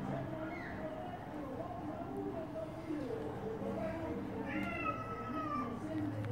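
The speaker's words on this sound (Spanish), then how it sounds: "Este el gato." Cat outside a home in Tijuana, Mexico, giving several drawn-out meows over a background murmur of voices and household noise, with a clearer, higher meow near the end.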